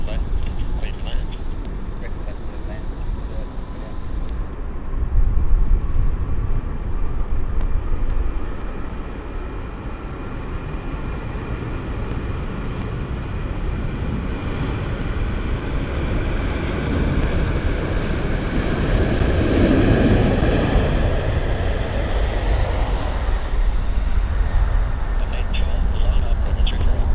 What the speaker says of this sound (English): Right, Jetstar from Launceston, flight 748, is coming in on 34 left.